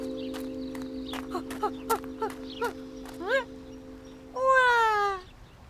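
A cartoon cat lets out a loud drawn-out meow after a run of tinkly, plucked music notes and quick squeaky effects in a Turkish children's animation.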